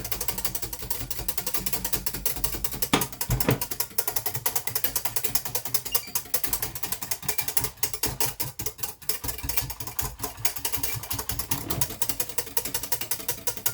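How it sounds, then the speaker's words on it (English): A whisk beats grated chocolate into milk in a rapid, continuous rattling rhythm of quick metallic taps against the container, steady and close throughout. "just whisk that lovely grated chocolate into your milk."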